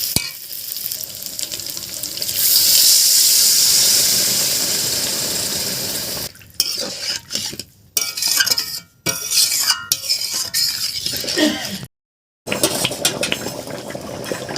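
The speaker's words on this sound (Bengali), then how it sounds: "মশলাটা আবার কষা হয়ে গিয়েছে, এবার আমি জল দিয়ে দেব।" Water poured into a hot pan of fried spices for a Bengali fish-head curry made with a katla head, a loud steady hiss and sizzle, followed by stirring, clatter of utensils and bubbling in a home kitchen.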